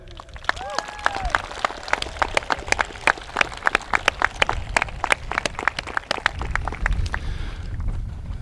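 Graduation audience at a high school ceremony cheering and applauding the parents, a dense sustained burst of many hands clapping with scattered whoops, filling the hall for several seconds.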